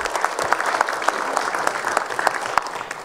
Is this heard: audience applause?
yes